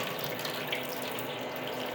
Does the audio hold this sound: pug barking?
no